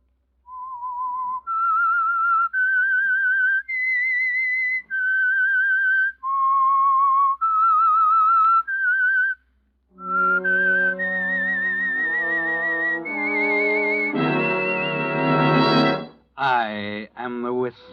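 A clear, melodic whistled tune of sustained notes, the opening signal of an old-time radio mystery program, followed by a brief orchestral musical sting.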